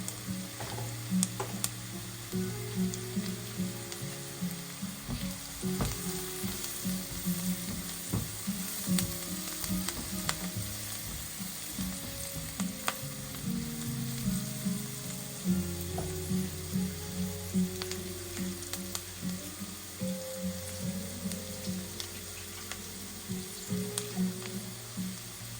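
Red chili powder hits hot sambar in a pan, producing a steady close sizzle and frying hiss, broken by repeated scraping and stirring knocks throughout.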